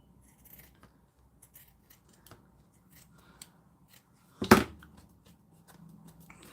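Scissors trimming a piece of paper ephemera for a craft project, a single short crisp snip up close amid faint rustling in a quiet room.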